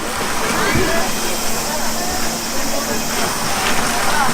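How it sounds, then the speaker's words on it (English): Otowa waterfall at the base of Kiyomizu-dera's main hall in Kyoto, its three streams pouring in a constant broadband rush and splash, loud and close, with a voice talking over it. "we are now at the Ottawa waterfall, which is located at the base of the Kiyomizu-dera main hall"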